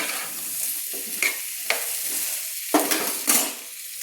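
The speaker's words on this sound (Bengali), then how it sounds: "আমি এইভাবে একটু ভালো করে আমি ওলকপিগুলো নেড়ে নিয়েছি" A utensil stirs kohlrabi pieces with oil and salt in a hot pan. The sizzle runs throughout, broken by several sharp scraping knocks of the spoon against the pan.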